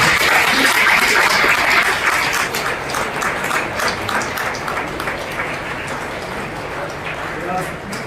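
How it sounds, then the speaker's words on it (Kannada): A crowd at a book launch ceremony for a forty-volume collected works applauds, loud and dense at first, then easing slightly while staying steady to the end. "ಪ್ರೀತಿಯ ಚಪ್ಪಾಳೆಯೊಂದಿಗೆ"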